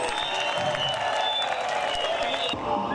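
Sustained applause from a rally audience in Bujumbura fills the scene with dense, steady clapping and crowd noise, tapering slightly near the end.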